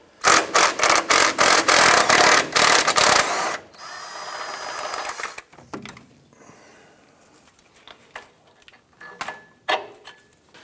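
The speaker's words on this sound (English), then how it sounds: "I'm gonna use a 15mm swivel socket and extension here to remove this bolt." A 15mm swivel socket on an extension removing an engine mount bolt on a 1994-2004 Chevy S10: rapid, loud, close ratchet clicks in a quick series, then quieter metallic taps and scrapes.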